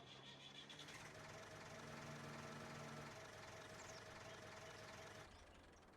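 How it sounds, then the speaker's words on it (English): A farm tractor engine runs steadily at close range, a continuous mechanical drone with a low harmonic hum that holds for several seconds before easing slightly near the end. "my tractor's alive."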